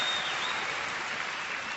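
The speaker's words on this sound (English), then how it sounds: "Round of applause." A large arena audience at a Wembley event breaks into applause, a brief burst of dense, hissing clapping from a crowd, heard at a steady level.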